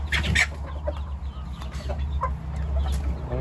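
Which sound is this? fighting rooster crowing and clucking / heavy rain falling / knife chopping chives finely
fighting rooster crowing and clucking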